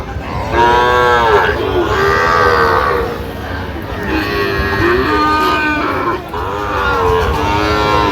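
Cattle at a busy livestock market, where Sahiwal bulls are sold, moo loudly and repeatedly in long drawn-out calls, several animals close by over a noisy crowd murmur.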